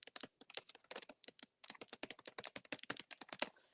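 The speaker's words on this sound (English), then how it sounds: "she be typing away herself" A computer keyboard clatters with rapid, continuous keystrokes in irregular bursts, close and crisp, with no voices.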